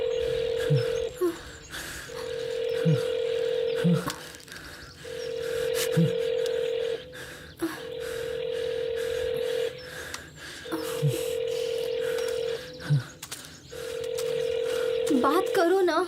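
A telephone in a jungle scene of a Hindi-dubbed film gives a long run of steady tone bursts separated by short gaps, with faint clicks and a voice heard between the tones.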